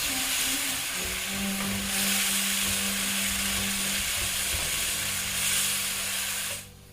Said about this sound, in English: just run your spatula and scrape up all the brown bits